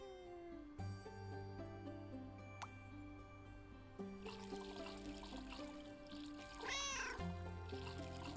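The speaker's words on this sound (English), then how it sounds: "I heard a cat." A cat in the cozy shop-management game Leafy Corner gives a single short, bright meow near the end, heard at moderate level over soft game music and a trickling water sound.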